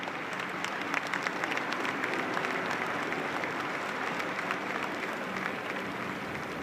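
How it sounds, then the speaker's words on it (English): A large crowd applauds in St. Peter's Square as pallbearers carry the coffin at Pope Francis's funeral, a distant, even wash of clapping that holds steady throughout. "The bearer party with applause in St."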